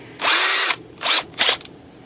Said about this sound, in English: So we'll throw that in the drill.